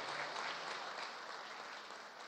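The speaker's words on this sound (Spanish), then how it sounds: "un aplauso por acá" A crowd at a government event for the start of the school year claps steadily throughout, a full, even burst of applause.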